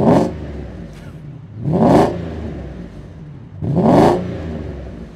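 Mercedes CL600 coupé V12 engine revving in three sharp blips, each rising and falling quickly, loud and close with a low idle between bursts.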